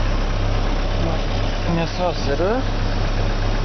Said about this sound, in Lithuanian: Einam, paklausysim variklio.